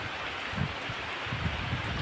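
Heavy rain pours down near hills in a continuous broadband wash, with a few soft low thumps rising out of the steady roar and nobody speaking.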